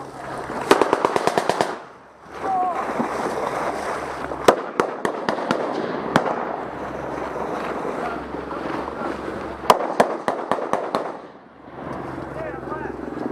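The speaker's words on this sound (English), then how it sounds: "Who are they shooting at?" Rapid bursts of automatic gunfire crack out in loud clusters amid a combat firefight, over steady wind and engine-like rumble, with people talking in between the volleys.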